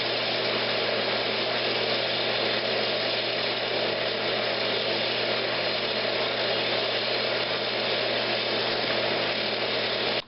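A woodturning lathe runs steadily with a low, even motor hum as a tool cuts the tenon off a reverse-mounted shadow box Christmas ornament, a continuous drone with a faint scraping texture and no talking.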